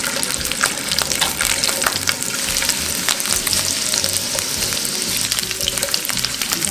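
Twelve whole garlic cloves fry in two or three spoons of cooking oil with a loud, close, crackling sizzle that runs steadily throughout, dotted with sharp spatters and some stirring, with no voices.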